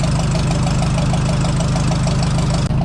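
The engine of a 1970 Ford F350 service truck runs at a steady idle, close and loud, with a rapid, regular knocking pulse throughout and a brief dip near the end.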